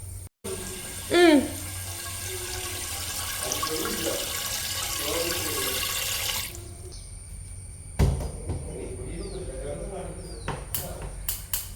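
A household water pump motor runs steadily as water flows, a continuous broadband rush through most of the clip that drops off partway, with someone talking over it in a home kitchen on a Sunday morning.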